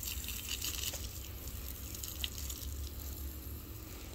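Water splashes steadily over a stack of bricks, wetting them before masonry work, a continuous low gushing wash with a few faint drips, close and alone with no talk.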